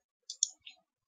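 Mouse clicks accepting a trade in a game, three quick light clicks close together in a quiet room.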